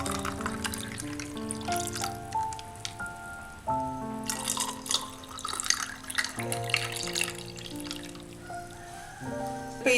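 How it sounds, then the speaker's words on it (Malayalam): Freshly blended lime juice is poured into a glass over ice, a continuous liquid trickle and splash with occasional faint clinks, lasting several seconds close by. "ഇനി ഇതിലേക്ക് നമ്മൾ അടിച്ചു വെച്ചിരിക്കുന്ന ലൈം ജ്യൂസ് ഒഴിക്കാം."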